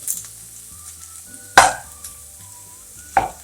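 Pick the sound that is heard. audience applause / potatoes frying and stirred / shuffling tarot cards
potatoes frying and stirred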